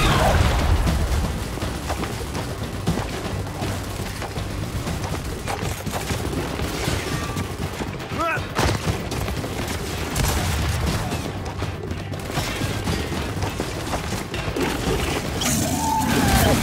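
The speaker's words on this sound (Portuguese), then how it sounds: "Granada de fragmentação!" Dense, continuous combat from the Gears 5 video game, with a fragmentation grenade blast amid sustained gunfire, crashes and booms, loud and unbroken throughout.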